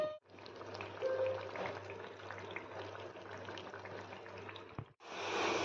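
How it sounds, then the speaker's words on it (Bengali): Gayna bori lentil dumplings frying in hot oil in a home kitchen, a steady close sizzle and bubbling that runs on continuously, briefly dropping out before resuming loudly at the end. "দেখো 4 জনের 4টে গয়না বড়ি ভাজছি"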